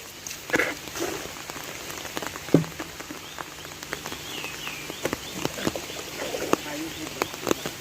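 Rain falls on a hand-dug pond in a rural Thai orchard garden, a soft steady patter with scattered louder drops tapping nearby, and faint frog and bird calls in the background.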